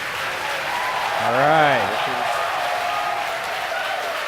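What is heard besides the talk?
crowd cheering at SpaceX headquarters during Starlink launch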